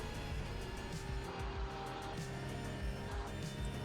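A Porsche race car driven at over 200 in the RaceRoom racing game, its engine a steady, loud, continuous roar with faint tire noise, heard alone without talk.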